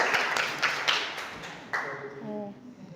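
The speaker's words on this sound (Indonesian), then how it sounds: "Tepuk tangan untuk kita semua." A classroom of students claps hands in a short, uneven burst that fades out after about two seconds, followed by a brief voice as the room quiets.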